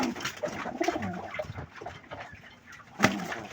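Pet pigeons bathing, with soft cooing and bird calls close by over scattered splashes and flutters, ending in a sharp flap or splash near the end.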